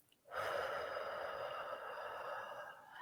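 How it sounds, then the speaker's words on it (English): A single long exhale during a calming breathing exercise, breathy and close, rising sharply then sustained and slowly fading over a few seconds with no talk. "Breathe out."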